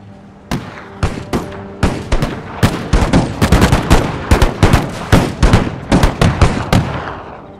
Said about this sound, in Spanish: La ametralladora cachonda.